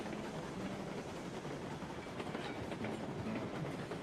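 Glenbrook steam locomotive rolling along rails in the railway game Railroads Online, a steady, continuous rumble with a dense rhythmic clickety-clack from the wheels, loud and even throughout, with no voices.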